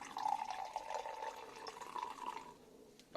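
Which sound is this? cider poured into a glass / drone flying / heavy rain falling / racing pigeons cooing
cider poured into a glass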